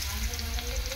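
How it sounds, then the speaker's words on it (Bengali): Potatoes hit hot oil in a pan, giving a brief burst of bright crackling sizzle. "আমি সবার প্রথমে দিয়ে দেবো আলু,"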